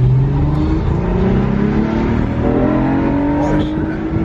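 An Acura TL engine revs hard as VTEC engages, a loud close roar climbing in pitch over a few seconds with a rough, gravelly edge.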